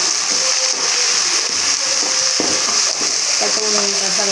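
Egg bhurji crackles and sizzles in a hot pan while a utensil scrapes and stirs it in repeated strokes, close and fairly loud.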